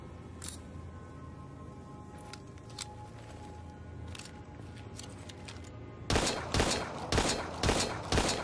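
Gunfire in the survival horror game Daymare 1998: scattered single shots over a low ambient drone, then a loud burst of rapid repeated firing near the end.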